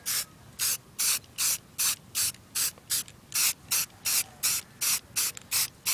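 Rapid, regular bursts of spray paint hissing from a can while painting digital camo, about a dozen short sprays in quick rhythm, close and fairly loud with no talking.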